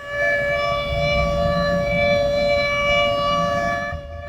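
An air raid warning siren in India sounds a loud, steady sustained tone with rich harmonics, holding without pause for about four seconds before cutting off abruptly, with no voices.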